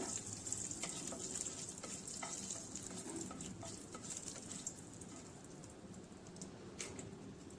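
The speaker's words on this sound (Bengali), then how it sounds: "আর কয়েকটা গোলমরিচ। এগুলোকে দিয়ে কিছুক্ষণ ভেজে নেব, কয়েক সেকেন্ড নেব ভেজে।" Black peppercorns and bay leaves frying briefly in hot oil, a faint steady sizzle with a few light clicks and scrapes from stirring, no voices.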